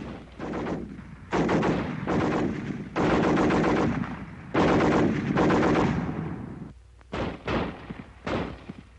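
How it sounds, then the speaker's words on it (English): Browning Automatic Rifle firing in WW2-era weapons training, loud sustained bursts of rapid automatic fire, several long strings separated by brief pauses, ending with shorter bursts; no talking. "The BAR, 80 shots a minute."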